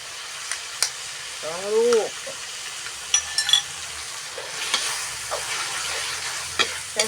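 Eggs stir-fry with cucumber in a pan, a soft steady sizzle with intermittent stirring scrapes and taps, while a brief vocal sound and faint background noises come and go over the cooking.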